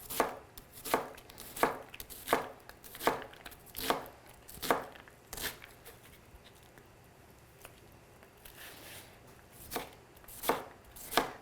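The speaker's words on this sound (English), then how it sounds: "Okay, and now we chop it up." A knife chops an onion left intact at one end, in a steady series of sharp, close cuts on a board, with a brief pause midway before the chopping resumes; no one speaks.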